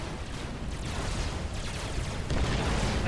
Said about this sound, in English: Do you see a comm bomb?